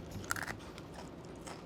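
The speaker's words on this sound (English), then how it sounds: "Is the mic picking up this crunch?" Crunching and chewing of pork rinds close to the mic, with a few sharp bites near the start followed by quieter, steady chewing.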